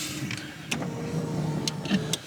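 An electric adjustable pedal motor in a Dodge Viper whirs steadily as it moves the clutch pedal, a low close mechanical hum with a few faint clicks and knocks on top.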